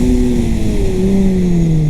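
A Kawasaki ZX-10R engine hums loud and close at a steady, slightly falling pitch while riding, with wind roar underneath.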